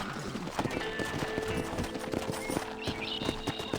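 Horse hooves trotting in the Red Dead Redemption video game, a steady rhythmic clip-clop of hoofbeats close up, with a brief whinny.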